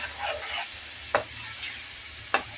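Crab curry masala frying in a pan, a soft steady sizzle broken by two sharp scrapes of a spoon stirring it, close and alone.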